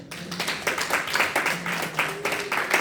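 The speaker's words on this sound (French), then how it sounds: "Nous acclamons le Seigneur pour maman" Church congregation clapping together during a Sunday service in Brussels, steady rhythmic claps filling the room with voices mixed in underneath.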